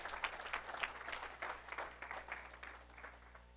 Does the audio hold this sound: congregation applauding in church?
yes